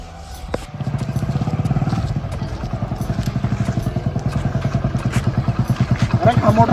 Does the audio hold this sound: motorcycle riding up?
yes